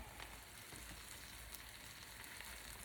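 Steady, soft sizzling crackle of a sandwich frying on a hot Pampered Chef Deluxe electric grill surface, continuous and close, with no talking.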